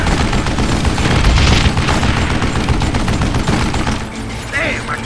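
Rapid gunfire crackles in a Wild West shooter, Call of Juarez: Gunslinger, a loud, dense volley of shots for several seconds before thinning out, with voices talking amid the shooting.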